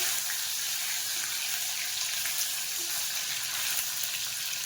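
Paneer gently frying in hot oil for a restaurant-style paneer mutter masala, giving a steady, even sizzle with a faint watery hiss throughout and no talking.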